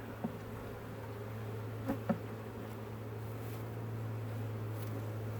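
Honeybees buzz inside a hive as a low, steady drone throughout, close and even, with a couple of faint clicks near the start.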